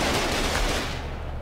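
In the Foxhole war game, gunfire during a large base assault comes as a dense, loud burst of rapid shots that fades slightly toward its end, with no talking.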